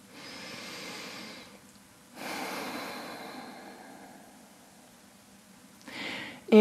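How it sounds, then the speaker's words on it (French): Deep, slow breaths taken during a vinyasa yoga session, long airy inhales and exhales in separate swells with pauses between, close and intimate, with no talk over them. "Et dernière grande respiration ici."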